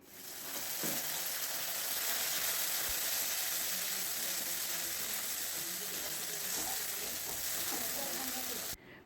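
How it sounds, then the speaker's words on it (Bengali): Ground poppy seed paste and ginger going into hot oil tempered with fenugreek for Bengali lau shukto, a steady broad sizzle that holds evenly and then cuts off sharply near the end. "এবার বেটে রাখা পোস্ত আর আদাটা দিয়ে দিচ্ছি"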